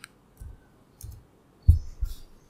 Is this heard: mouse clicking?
yes